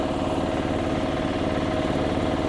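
A walking tractor (power tiller) engine chugs steadily while driving on a road, a loud, close single-cylinder putter with an even rapid pulse and no talk.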